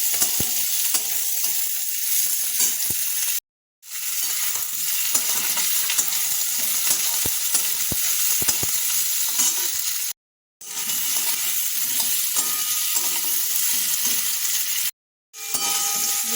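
Onion, green chilli, tomato and ginger-garlic paste fry for a fish curry, making a loud, close, continuous sizzle with stirring clinks, cut off by three short silent gaps.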